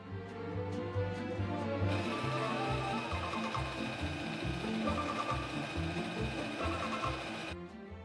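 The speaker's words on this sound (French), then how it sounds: "Et nous allons piquer tout autour en laissant une ouverture de 20 cm." An electric sewing machine stitches all the way around a convertible children's play mat, running steadily and fairly quietly for several seconds with a rhythmic mechanical whir and needle patter and no talk over it.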